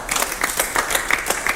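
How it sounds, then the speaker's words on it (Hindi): A group of people clap together in bursts, close and fairly loud, with uneven rhythmic claps across the short stretch. "जब कैप्टन बनूंगी ना, जब भी ऐसी ताली बजाना"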